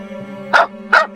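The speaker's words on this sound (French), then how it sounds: "Un chien se mit à aboyer furieusement." A dog barks furiously, two sharp barks about half a second apart, close and loud over a steady low hum.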